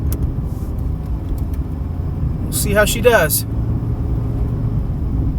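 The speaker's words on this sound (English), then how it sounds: "Now I've got the car fired up." A 2020 Mercedes-AMG GT R in sport mode with the exhaust set to advanced idles with a steady low rumble, and someone talks over the engine and exhaust throughout.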